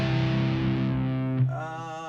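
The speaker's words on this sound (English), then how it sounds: "And then I have this like ambient reverb on it." An electric guitar with a quick delay of about 375 milliseconds and ambient reverb sustains a chord that swells and shifts, then a new ringing chord enters with a soft attack.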